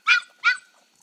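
An Arkansas bloodhound mother with puppies gives two short, sharp barks close by, a brief pause between them, with no other sound around.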